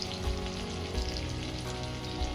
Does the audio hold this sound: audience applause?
no